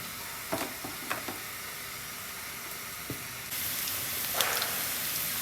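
Onion and dried chili hitting hot oil in a pan for a lauk shaak fry, a few sharp crackles at first, then a steady loud sizzle with bursts of hiss that holds to the end.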